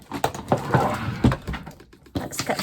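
A Xyron sticker maker runs small cut-out paper key codes for diamond painting kits through its rollers, giving close, irregular bursts of sharp clicks and papery crackling with brief pauses between, and no voices.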